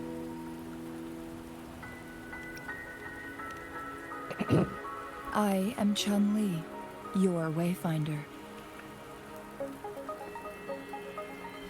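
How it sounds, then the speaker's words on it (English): Soft, constant rainfall patters in the Wuthering Waves game world, a quiet steady hiss running beneath a character speaking in the middle and a few brief chimes. "Don't worry, the rain won't last much longer."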